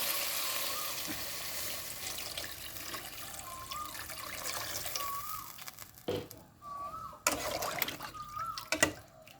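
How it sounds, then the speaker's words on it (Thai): Water pours steadily into a cooking pot of fish-sauce-seasoned meat for a mustard green and beef curry, a continuous rushing splash with brief breaks and small bubbling tones, heard alone. "หลังจากนั้นเติมน้ำลงไปเลยนะเจ้า"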